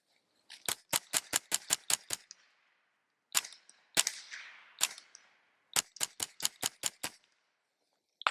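A KelTec CP33 .22 pistol fitted with an MP7-style conversion kit fires in quick close bursts: a run of about seven sharp shots, a pause, a few scattered shots, then another rapid string of about six, each crisp and loud against near silence.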